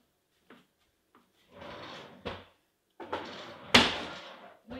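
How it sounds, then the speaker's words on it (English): A squeaky household door opened and closed in a kitchen, giving a few short creaks and knocks followed by longer scraping swings and a sharp closing thud, close and alone without talk. "We need to unsqueak this door."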